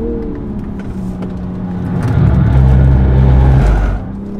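A 2022 BMW M240i xDrive runs on a track, its engine droning steadily and then swelling into a louder, held pull before easing off, heard close from the cabin with no talk.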